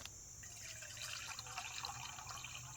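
Hot water poured from a container into a metal canteen cup outdoors in cold weather, a steady close trickle and fill sound with light splashing and drips, no voices.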